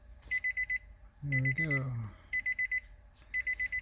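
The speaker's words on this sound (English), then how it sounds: "Oh, it's annoying, that beep." A 2006-10 Nissan Frontier's aftermarket car stereo gives repeated groups of four quick high electronic beeps during installation, close and clear, while someone talks briefly in between.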